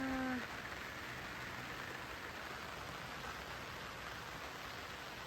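Steady, even hiss of light drizzle falling all around a hillside campsite at Wonolelo Hill Camp, Magelang, soft and continuous, with a brief voice right at the start.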